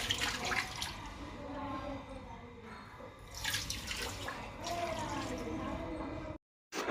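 Water running from a pipe at home, a steady splashing, trickling flow heard close up for several seconds before stopping abruptly near the end.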